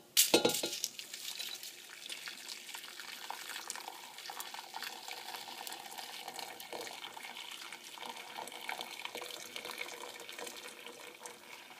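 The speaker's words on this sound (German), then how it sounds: "Jetzt legt ihr noch Alufolienschnipsel hinzu und füllt die Schüssel mit heißem Wasser auf." Hot water runs into a bowl holding silver cutlery, salt and scraps of aluminium foil, a steady close hiss and splash that opens with a louder rush and continues evenly.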